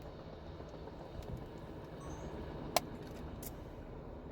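A big CSX freight train rolls past during a snowstorm, a steady low rumble of rail cars heard at a distance, with one sharp metallic clank partway through.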